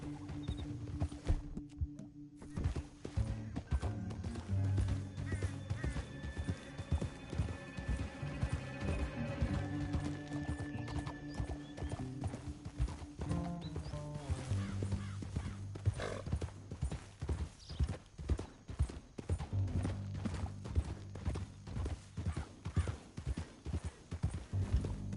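Horse hooves in Red Dead Redemption 2 clip-clop in a steady rapid rhythm throughout, with occasional whinnies and a constant low background hum.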